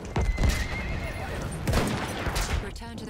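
Horse in the World War I shooter Battlefield 1 neighing and whinnying while hooves clip-clop at a gallop, mixed with battlefield noise and occasional talk.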